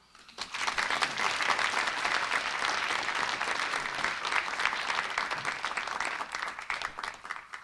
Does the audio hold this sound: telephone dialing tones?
no